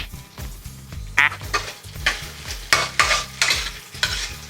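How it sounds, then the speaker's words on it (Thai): Meatballs are stir-fried with dried chili and garlic in a hot pan, with a crackling sizzle and repeated rhythmic scraping strokes of a spatula against the pan, close and lively. "ผัดลูกชิ้นพร้อมกับพริกให้มันแบบให้มันหอมติดเนื้อลูกชิ้นไปเลย"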